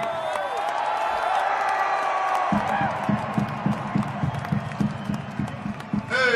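A large crowd at a rock concert in Baltimore cheers and whoops, then breaks into rhythmic clapping in time, loud and roomy, with cheers rising again at the end.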